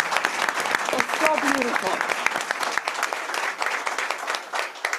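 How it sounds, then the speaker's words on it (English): An audience at a school board of education meeting claps loudly and continuously, with a few voices speaking over the applause. "Let's give her a hand of applause."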